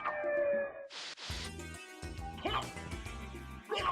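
A creature from Castlevania: Symphony of the Night gives out yelping, howling dog-like cries, several bursts in a row over game music and effects.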